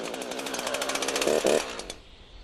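Chainsaw engine running steadily at a fairly loud, close idle after one throttle blip, with a dense buzzing drone that cuts off near the end, leaving a quiet tail.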